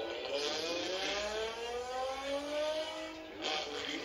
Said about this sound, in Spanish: ¿Qué es eso que suena así? ¿Cuál es el motor?